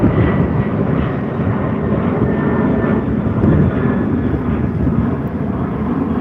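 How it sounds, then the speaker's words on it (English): A Qantas Boeing 737-800 airliner passes an airport spotting point, giving a broad, continuous engine roar that stays loud and steady throughout, with wind buffeting the microphone and no talking. "Here goes our Qantas 737-800."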